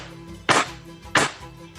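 A voice imitates a next-door neighbor banging on the wall, producing two sharp, loud knock-like bursts about two-thirds of a second apart over a quiet background.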